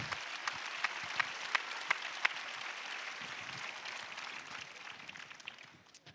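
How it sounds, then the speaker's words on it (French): Conference plenary audience breaks into steady applause, a room full of clapping with a few sharp louder claps near the start, gradually thinning toward the end. "je voudrais qu'on les applaudisse pour ça"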